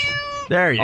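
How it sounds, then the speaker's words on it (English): A loud, close cat meow with a rising-falling wail, played as a sound effect on a radio talk show, following a brief tonal sound and overlapping a man's speech. "Do we need cat noises?"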